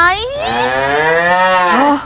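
A cow gives a long, loud, sustained moo that rises and holds steadily for about two seconds, close and alone without talk.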